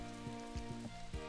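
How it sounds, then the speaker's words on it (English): Rain falls in the video game Story of Seasons: Pioneers of Olive Town, a faint steady patter of drops heard under light, tonal game music. "Seems I have cleaned up the farm from all this rain that's going on here."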